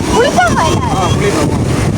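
Steady, loud wind buffeting the microphone, a continuous low rumble with a voice faintly audible beneath it.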